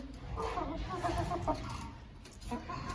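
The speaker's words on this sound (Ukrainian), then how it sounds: "Дійшла черга показати курочок." Backyard hens pecking at a mandarin put out for them, clucking steadily and close by, with several birds overlapping in a continuous low chatter.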